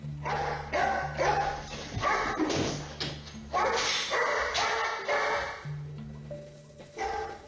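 An upset dog barks in repeated bursts, close and loud, with whimpering yips between the barks, and a faint voice beneath.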